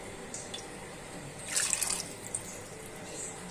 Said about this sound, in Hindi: अब यखनी का पानी जो हमने गोश्त के साथ बॉईल किया था वो मैं ऐड कर रही हूँ इसमें।